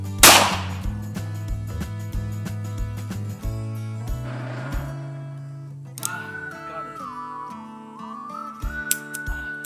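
A .357 Magnum revolver fires a single sharp, loud crack at a hunting field, followed by a long ringing decay, then quieter handling noises and a whistling tone later on.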